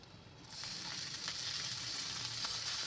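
Samosa spice masala with coriander sautéing in a pan: a steady, close sizzle that swells after a brief quiet start, with faint stirring scrapes through it.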